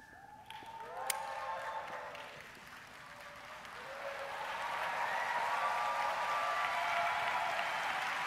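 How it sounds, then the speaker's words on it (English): Applause from the Samsung Unpacked launch audience for the Galaxy S20 builds from scattered clapping into a dense, sustained wash of hands, heard at a distance in a large hall. "the paid applause is really loud this year"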